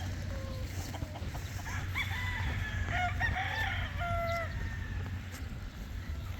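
Bulik gamefowl roosters crow on a farm, several overlapping calls rising in the middle distance over steady background noise, with faint clucking.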